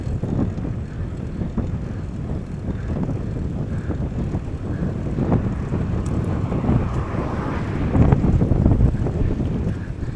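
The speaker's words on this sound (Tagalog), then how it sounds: "Ang hangin pa." Strong wind buffeting the microphone with a continuous low roar, gusting louder near the end, while riding a fixed-gear bike into a headwind.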